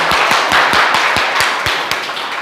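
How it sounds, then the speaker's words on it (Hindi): Parents and students clap for a teacher at a school result celebration, steady rhythmic group clapping that holds at an even level through the stretch with no talking. "जोरदार ताली इनके लिए"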